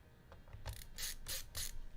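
Screws are being worked out of a computer case with a screwdriver, several quick ratcheting clicks in short bursts, close and fairly quiet, with no talking.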